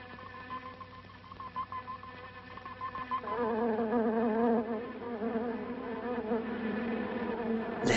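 Insect buzzing in the style of bees from a movie soundtrack, a steady droning hum that swells louder partway through and holds, with no talking.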